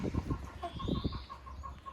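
Hens in a coop by their hopper feeders at a country dacha give soft, steady clucks, close and alone with no talk.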